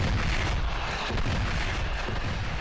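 A cannon fires during a fort siege in the Forts strategy game, a loud, sustained booming rumble that fills the whole moment without a break.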